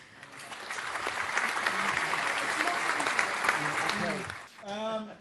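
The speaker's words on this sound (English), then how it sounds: "while we've got that round of applause" Sustained audience applause at a public discussion event, dense and loud for several seconds before cutting off as a voice begins speaking.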